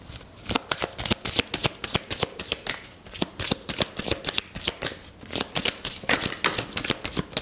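A deck of cards is shuffled and cut up close, a rapid series of crisp riffling bursts in an irregular rhythm that carries on throughout with no talking.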